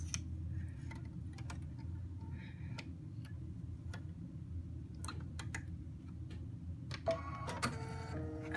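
Threading a Luminaire embroidery machine: faint, soft mechanical clicks and ticks over a low steady hum, a few sharper clicks near the end.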